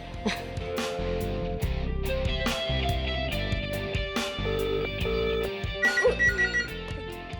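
A telephone rings repeatedly in a restaurant setting, with tonal bursts and a steady rhythm standing out over a low background hum.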